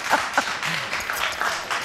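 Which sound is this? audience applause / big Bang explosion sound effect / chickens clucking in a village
audience applause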